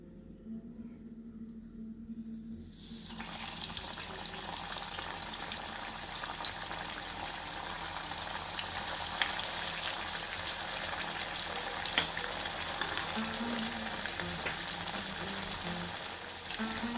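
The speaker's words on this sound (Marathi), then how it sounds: "आपण तळून घेऊया." Bread rolls fry in hot oil with a steady, bright sizzle that starts abruptly after a couple of quiet seconds and continues evenly throughout, accompanied by a faint low hum.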